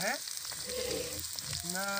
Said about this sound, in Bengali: আলু ভাজা হয়ে এসেছে